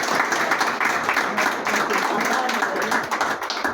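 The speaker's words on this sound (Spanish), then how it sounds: "un aplauso" An audience applauds at a literary talk about a novel, dense, steady clapping from many hands held at an even level throughout, close and lively.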